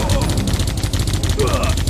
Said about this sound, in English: look at all these bullets flying when you're in slow motion